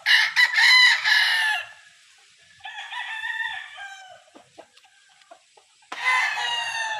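A pure B-Boy line Super Sweater gamefowl rooster crows three times, close and loud, with brief quiet gaps between the long calls.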